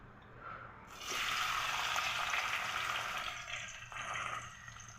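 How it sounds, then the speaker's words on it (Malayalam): Chopped large onions dropped into hot oil in a pan, a sizzle surging up after a quiet start, holding moderately loud, then easing and flaring again toward the end, heard up close with no talking. "അപ്പോൾ നമുക്ക് അതിലേക്ക് നമ്മുടെ അരിഞ്ഞു വെച്ചേക്കുന്ന വലിയ ഉള്ളി നമുക്ക് അതിലേക്ക് ഇട്ട് കൊടുക്കാം"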